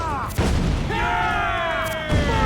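Ship cannons boom in Assassin's Creed 4: Black Flag, with heavy low blasts at the start and near the end of the clip and a pitched tonal sound between them.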